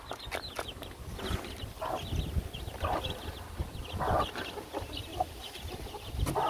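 A hen and her chicks cluck and peep close by in a steady scattered chatter of short calls, with rustling and low background noise throughout.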